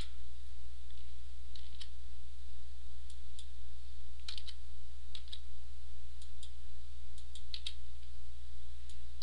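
Light, scattered clicks from typing on a computer keyboard tap out irregular bursts over a steady low hum, near and fairly quiet, with no talking.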